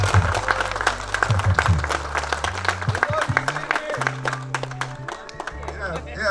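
Audience applause and cheering at a motorcycle club campout in Tampa, Florida, with loud music and a bass line running underneath the clapping throughout.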